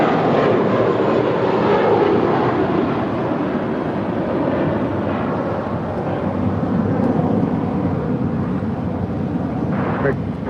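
An Austrian Airlines jet taxis toward a departure for Vienna at LAX, its engines giving a steady loud roar and whine that holds evenly throughout, with wind rumble on the microphone.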